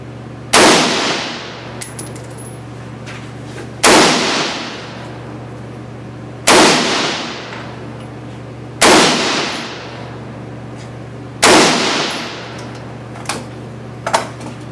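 Five loud, single rifle shots from an FN SCAR 16 fed by a Kamanga magazine, evenly spaced a few seconds apart at an outdoor range, each a sharp crack with a ringing decay, steady hum underneath.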